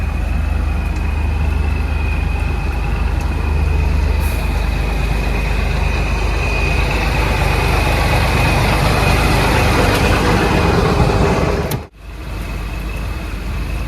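A vehicle engine idles loudly and steadily at close range with a constant hum, then is switched off near the end, leaving a quieter background.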